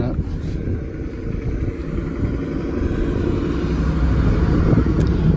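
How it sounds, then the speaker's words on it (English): A car passes by outdoors on a street while a Fiat is parked for an engine bay repair, a steady, loud road rumble that swells gradually across the clip. "Wait till this car goes by."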